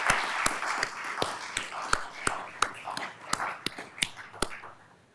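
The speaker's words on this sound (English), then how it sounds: "let's give a round of applause to our media partners and City Hall." Scattered hand claps from a small audience at an Austin civic closing ceremony, sharp separate claps in an irregular rhythm rather than a dense roar, fairly close and moderate in level, with a faint murmur of voices underneath.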